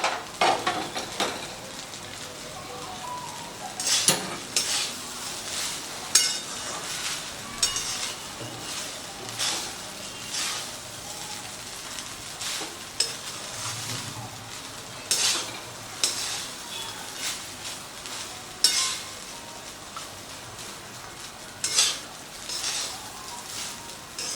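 Fried peanuts are stirred into lemon rice in a pan with quiet, repeated scraping and clinks of a spoon against metal, a faint sizzle underneath, and no talk.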